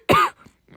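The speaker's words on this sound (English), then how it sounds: "Sorry, had to cough." A single sharp, close cough bursts out, followed by a softer, brief throat-clearing rasp.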